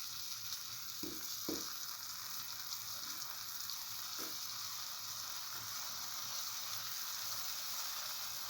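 Scrambled egg fries in a pan, a steady close sizzle with a few soft stirring knocks and scrapes in the first seconds.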